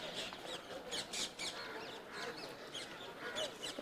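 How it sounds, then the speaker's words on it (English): Many birds call at once near a gateway and courtyard in India or Nepal, a busy chorus of squawks and chirps at a distance, with faint voices mixed in. "You hear all the birds."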